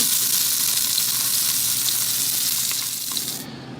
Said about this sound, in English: in the same pan we had the mushrooms in, we're going to go ahead and sear off the sous vide pork